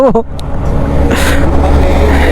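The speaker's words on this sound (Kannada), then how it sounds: "ವರ್ಲ್ಡ್ಸ್ ಬಿಗ್ಗೆಸ್ಟ್ ಇಂಜಿನ್ ಇದು" A large 2500cc motorcycle engine idles with a deep, steady rumble, loud and close, with a brief mechanical rattle near the start.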